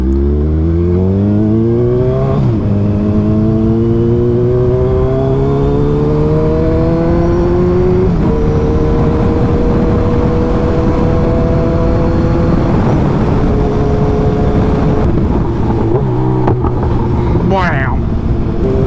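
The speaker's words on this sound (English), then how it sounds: "Wow, this bike sounds so good." Motorcycle engine running loud and close while riding, its pitch climbing repeatedly as it accelerates through the gears, with brief dips at each shift over steady wind rush.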